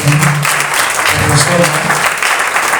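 Church congregation applauding to acclaim the Lord, a loud, dense burst of clapping from a full room mixed with voices talking over it.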